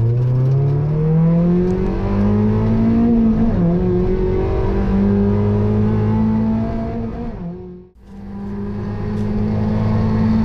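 White Mazda MX-5 NB with a short shifter, engine revving steadily on a race circuit in Kansai, loud and close, with a brief dip near the end as the revs drop during a shift before climbing again.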